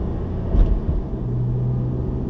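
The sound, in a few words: car driving in first gear after stop sign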